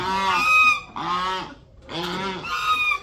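A domestic goose let out in the morning honks loudly and close by, four harsh nasal calls in quick pairs with a brief pause between them.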